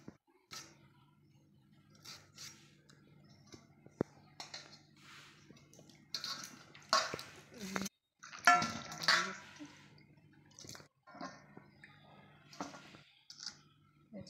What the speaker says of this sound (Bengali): এখন আমি পেঁয়াজ, টমেটো, শিমলা মির্চটা ভালো করে জল দিয়ে ধুয়ে নেব।